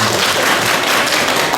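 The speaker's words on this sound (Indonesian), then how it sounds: "Tepuk tangan semua." An audience applauding together, a dense, even wash of hand claps that holds steady and loud for the whole stretch, with no voices.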